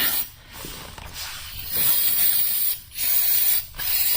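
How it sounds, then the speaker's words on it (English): An aerosol spray can spritzes during an oil change on a 2014 Kia/Hyundai Optima/Sonata, several close, loud hissing bursts separated by two brief pauses. "And give it a spritz of the good stuff."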